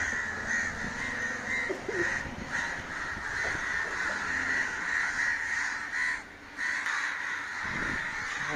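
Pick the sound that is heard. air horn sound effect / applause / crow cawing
crow cawing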